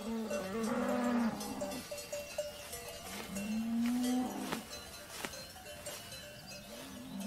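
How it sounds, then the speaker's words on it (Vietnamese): Cattle moo repeatedly on a high mountain pasture, several long drawn-out calls rising and falling at moderate distance, with other low moos in between and no talk. "khi trời đủ ấm để đưa những con bò lên những đồng cỏ trên cao này"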